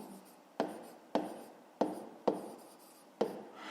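Handwriting on paper, likely a student working a grade 5 maths exercise: soft, close scratching strokes, each starting with a distinct tap, repeated about six times at a fairly even pace.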